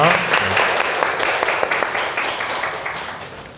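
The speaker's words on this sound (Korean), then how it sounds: "다시 한번 하나님께 영광의 박수 올려드리겠습니다." A church congregation claps in praise to God, a full, sustained round of applause from a crowded room that fades gradually over several seconds.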